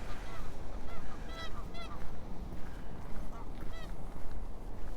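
Geese honk repeatedly around a lake in Regina in March, a loud chorus of overlapping calls over steady outdoor background noise.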